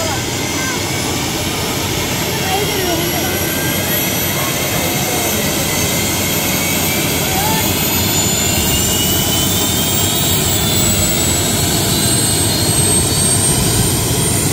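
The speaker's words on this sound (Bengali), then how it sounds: "ভিতরে ক্যাপ্টেন উনি ইঞ্জিন স্টার্ট দিচ্ছে" A helicopter engine roars continuously after start-up, a loud, steady, close whine and rumble that holds at full strength throughout.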